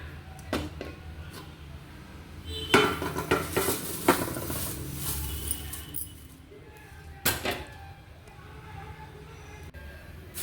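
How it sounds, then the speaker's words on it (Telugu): Mint and curry leaves frying in a pan, with sizzling, stirring and scraping of a utensil against the metal, a few sharp clinks standing out over a steady low crackle. "ఈ పుదీనా కరివేపాకు వేపుతుంటే వాసన గుమ్మగులాడుతుంది"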